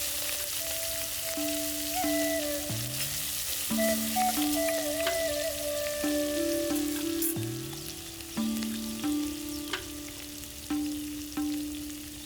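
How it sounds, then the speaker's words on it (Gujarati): Steady sizzling of mustard seeds, cumin, asafoetida, turmeric and green chillies frying in hot oil, continuous and close, with soft clinks and a few scattered pops. "હવે આપણે વઘાર કરી લઈએ"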